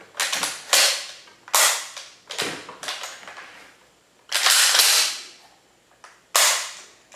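A Centurion shotgun fires shells in several sharp, loud reports spaced a second or so apart, each with a short ringing tail. Quieter handling clacks fall between shots, and no one speaks.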